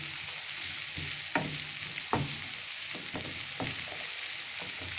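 Salted broccoli frying in a pan and being stirred to soften: a steady low sizzle with several sharp spatula scrapes at uneven intervals, close and moderately loud, no talking.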